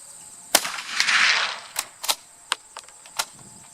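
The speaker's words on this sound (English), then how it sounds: "we'll see what happens with 3 quick shots" A Savage 220 20 gauge slug gun fires in quick succession outdoors. Sharp, cracking reports mix with a series of brief metallic clicks, moderately loud and with no talk.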